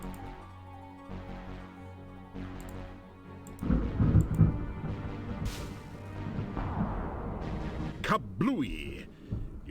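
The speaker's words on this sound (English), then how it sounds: "You got the chest open but set off an explosion in the process." An explosion goes off as a trapped iron safe is opened in the Quest for Glory 4 video game: a sudden low rumbling blast that swells and fades over several seconds, with a voice speaking.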